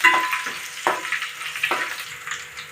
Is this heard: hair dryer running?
no